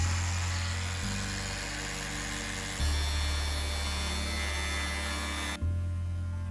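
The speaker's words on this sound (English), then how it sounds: "It was very helpful for me to have a cordless angle grinder for this as it made maneuvering it much easier" A cordless angle grinder cuts through the metal wall of a Mercedes Sprinter van being fitted with Dometic windows, a loud continuous whine with shifting pitch as the blade bites, close and sustained until it suddenly winds down.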